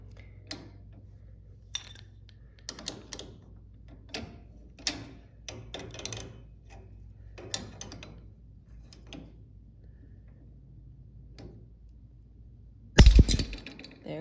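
A garage door opener spring is released by turning a square fitting, giving a series of light mechanical ticks and clinks at uneven intervals, ending in a sudden loud clunk near the end.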